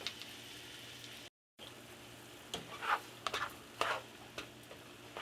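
Meat cooking with onion for carne con papas is stirred in a hot pan: a steady low sizzle with several brief scraping stirs bunched together in the second half.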